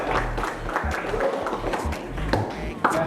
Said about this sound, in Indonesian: berikan tepuk tangan dulu untuk kelompok pertama